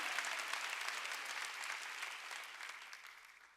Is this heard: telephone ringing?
no